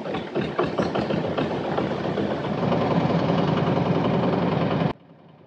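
A trawler boat's engine chugs steadily, close and loud, with knocking rhythmic beats at first settling into a continuous throb, then cutting off sharply near the end.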